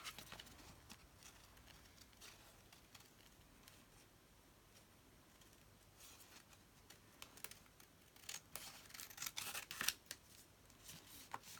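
Scissors trimming printed tracing paper, quiet at first, then a run of crisp close snips and paper rustles that grows louder and busier toward the end, no talking.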